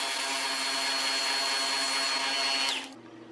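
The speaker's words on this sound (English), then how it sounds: "Now I can clean that up at the belt sander." A belt sander grinds against a wooden piece with a steady, loud abrasive whir, then spins down and falls to a quieter hum near the end.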